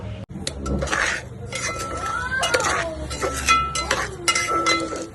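Rice being dry-roasted in a pan with a metal spoon, giving repeated clinks and scrapes against the pan while a person talks over it.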